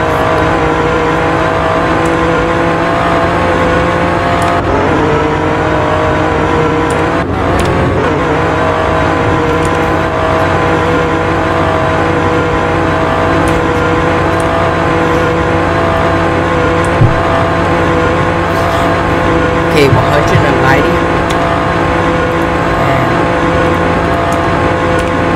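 A 2021 Alfa Romeo Giulia Quadrifoglio sedan drives at speed on the road, its engine droning loud and steady from start to finish with no talk over it.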